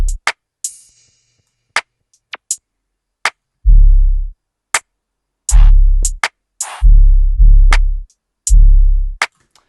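A dry, unprocessed hi-hat pattern programmed in FL Studio: sharp ticks in an uneven trap-style rhythm, punctuated by heavy booming bass hits, up close with no talking.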